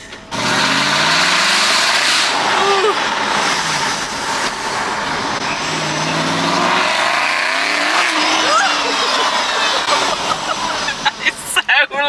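An Aston Martin sports car fitted with a spoiler drives loudly, its engine roaring in a continuous rising and falling drone, heard from inside the car with some talking over it.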